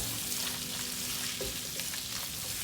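Salted onion frying in a pan for butter chicken curry, a dense, even sizzle that holds steady at moderate loudness throughout, alone without any voices.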